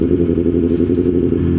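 A second-hand motorcycle idles nearby, a steady low rumbling engine with a slight rattly clatter, loud and even throughout with no speech.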